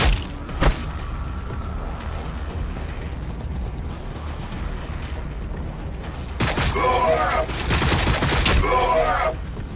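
Bursts of gunfire and explosions from the Warhammer 40000 Battlesector video game crackle amid battle noise, with sharp blasts early and heavier volleys later, mixed with game voices shouting.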